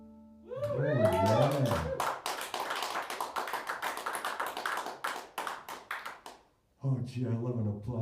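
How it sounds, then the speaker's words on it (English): An audience at a festival show claps in a burst of sharp, close hand claps that rings for several seconds, with people talking both before and after it. "I love an applause like that."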